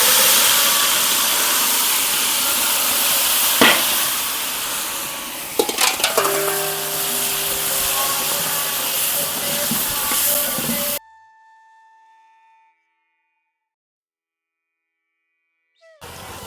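Cumin seeds and spices crackle and sizzle in hot oil for a bhindi masala tadka, a loud steady frying hiss with a few clinks of a pot. It cuts to near silence toward the end.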